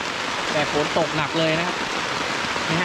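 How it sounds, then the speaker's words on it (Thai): Heavy rain pours steadily onto a tent at a mountain campsite, a constant close hiss of drops, while someone speaks briefly over it. "แต่ฝนตกหนักเลยนะครับ"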